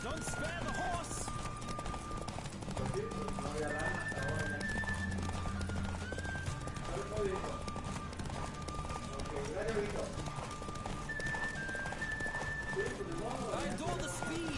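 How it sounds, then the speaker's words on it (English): Horse galloping in The Witcher game: steady rhythmic hoofbeats with occasional whinnies, running under continuous talk and background music. "Don't spare the horse."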